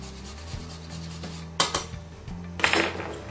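Fresh whole nutmeg rubbed over a grater, with faint scraping strokes followed by two louder rasping bursts, close and with no voices.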